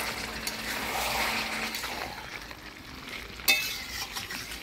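Chicken curry sizzles and crackles in a pan as it is stirred, a soft continuous frying hiss with scraping strokes, and a sharp metallic clink near the end as fried potatoes go in.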